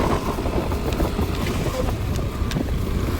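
A motorboat engine drones on open water with wind buffeting the microphone, a steady rough hum lasting the whole stretch with faint clicks and knocks over it.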